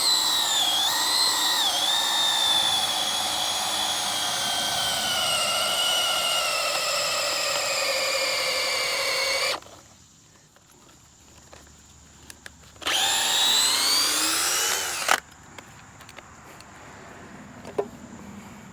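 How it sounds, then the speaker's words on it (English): A power drill whines steadily as it bores a hole about 9 inches through wood for a lag bolt to hang a farm gate, stops, then runs again in a shorter burst amid quiet clicks. "Using my drill bit."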